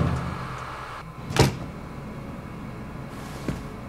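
A door opens once in the Twin Mirror video game, a sharp creaking swing near the middle of the clip over a steady low ambient hum, followed by a fainter knock or latch sound afterward.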